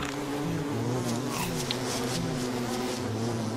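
Bees buzzing in the video game Don't Starve, a continuous droning hum with wavering pitch from several insects close by, steady and fairly loud throughout.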